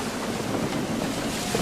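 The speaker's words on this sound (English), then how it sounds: "Gusty winds can be difficult to manage." Gusty wind roars steadily across a sailing ship, the Aquila, in Assassin's Creed 3, a loud broadband rush of air and sea with no talking.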